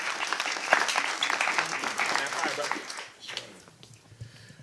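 A church congregation at a spoken word service applauding, dense clapping with some cheers that fill the room before fading, with voices heard under and after it.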